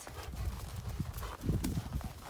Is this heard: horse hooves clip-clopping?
yes